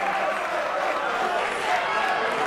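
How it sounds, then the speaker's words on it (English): A wrestling crowd at a BODY tag-team match roars steadily, a loud sustained wash of cheering and noise throughout the short moment. "And the crowd coming alive."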